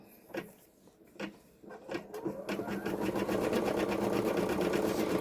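An embroidery machine stitches a photo at a steady 500 stitches per minute, its rapid needle chatter rising from a few isolated clicks into a continuous, close mechanical whir.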